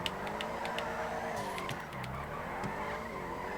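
Tires squeal and skid as a car spins out mid-drift in GTA 5 Online, with the engine droning under a wavering screech and a few sharp clicks and knocks, loud and close throughout.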